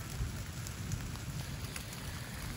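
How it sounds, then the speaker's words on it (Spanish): Constant hard pattering of hail in the mountains, a dense steady clatter of pellets striking nearby surfaces, with no voices. "Puro granizo"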